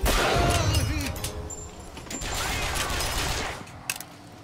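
Gunfire from a slow-reloading gun in BioShock, a dense burst of loud shots at the start that thins into scattered reports and mechanical clatter, with a sharp crack near the end.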